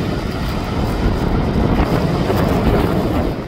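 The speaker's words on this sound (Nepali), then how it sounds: "मोबाइल नै हातबाट उडौला जस्तो भइरहेछ त हावा त" Strong wind blowing outdoors in Marpha village in Mustang, near apple orchards, roaring loudly and continuously across the microphone with a heavy low rumble throughout, no one speaking.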